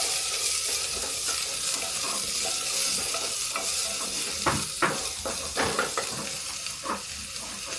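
Chopped onions tossed into hot oil with cumin seeds give a steady close sizzle and crackle while a spoon stirs and scrapes the pan, with bursts of louder frying midway through.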